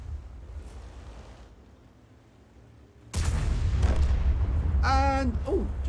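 After a few seconds of low rumbling quiet, tank and artillery fire in a World of Tanks-style video game erupts with a loud booming burst, and someone talks over the heavy sustained noise.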